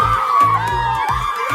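A new graduate shouts with joy at licensure exam results, a loud, sustained, wavering yell broken into a few rhythmic bursts.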